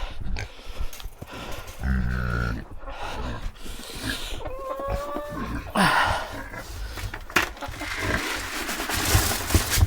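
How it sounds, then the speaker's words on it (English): Farm chickens cluck in short bursts on a winter farm during a power outage, mixed with low animal grunts and scattered rustling nearby. "Hi, chickens."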